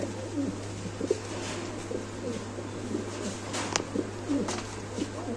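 Pigeons at a seller's place coo repeatedly in soft, low, throaty phrases over a steady electrical hum, with a few faint clicks and rustles around them; several birds sound nearby and overlap loosely.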